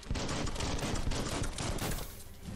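Rapid gunfire in the action RPG Biomutant, a dense continuous volley of shots crackling loudly throughout, with no talk.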